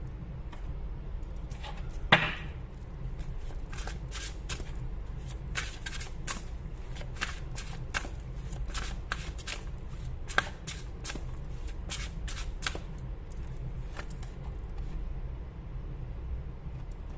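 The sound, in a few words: shuffling tarot cards to draw a card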